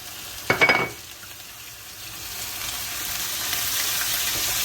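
Onion browned in oil in a pan, with turmeric, chili, ginger and garlic tossed in. A short clatter as the spices land gives way to a steady, close sizzle that slowly grows louder.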